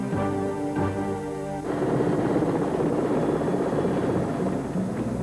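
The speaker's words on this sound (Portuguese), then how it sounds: "o Colibri, helicóptero da Operação Okavango, sobrevoa as altas colinas da impenetrável floresta do Buindi" The Colibri helicopter passes over the high forested hills of the Bwindi forest with a steady rotor thump and engine drone, pulsing rhythmically at first and then settling into a broad, continuous roar at moderate distance.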